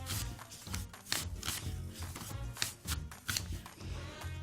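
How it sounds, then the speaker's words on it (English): Apples being sliced thin on a mandolin slicer, a run of quick rhythmic swishing and tapping strokes, close and steady with no talking. "I'm just going to take this and cut kind of thin little pieces of apple on my mandolin."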